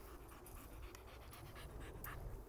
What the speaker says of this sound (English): The little puppy. There he is there.